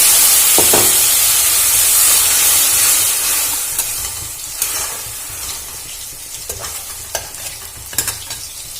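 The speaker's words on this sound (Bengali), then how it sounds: "আমি গুঁড়ো মশলার যে পেস্টটা বানিয়ে রেখেছিলাম, আমি সেটা এর মধ্যে এবার দিয়ে ভালো করে ভেজে নেব" A paste of ground spices fries in a pan for a Bengali pointed gourd and soybean curry, giving a steady loud sizzle and hiss with a series of sharp stirring scrapes toward the end.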